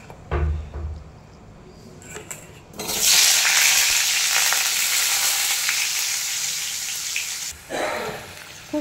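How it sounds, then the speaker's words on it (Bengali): Potatoes hit hot mustard oil in a wok and break into a loud, steady sizzle that lasts several seconds, after some brief clatter from utensils, then fades as the pan is stirred. "আলুগুলো আগে ভেজে নেবো"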